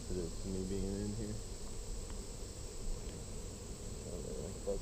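Honey bees hum in an opened hive as frames are lifted out during an inspection, a steady low drone that runs throughout at moderate level, with a few faint voiced sounds over it.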